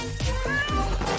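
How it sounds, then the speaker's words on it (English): A tiny kitten living in a tree mews softly several times in quick succession against a steady background hum. "It's a cute little kitten who lives in a tree."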